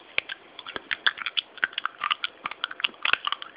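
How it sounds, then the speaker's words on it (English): Someone chews crunchy undercooked noodles from a soup, close and quiet, with irregular rapid crunches and crackles across a few seconds. "I tried some more noodles. They're crunchy."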